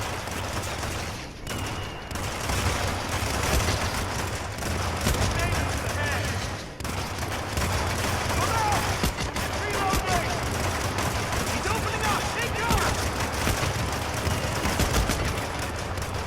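Sustained volleys of gunfire from the PS4 game Hitman, loud and dense for the whole stretch, with a few short dips, while someone talks over the shooting.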